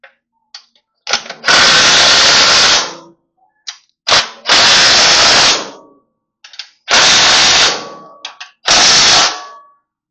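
Bursts from a power drill or impact driver tightening a bolt on a trailer during assembly, with four loud whirring runs of about a second or two each, broken by brief clicks and pauses, close up and with no talking.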